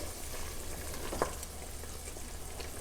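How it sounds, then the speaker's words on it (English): Low carb gumbo in a pot gives off a steady, soft bubbling and hiss that carries on with no break, plus one brief clink near the middle, and no one speaks. "We have now come to a boil, and I'm going to turn this down"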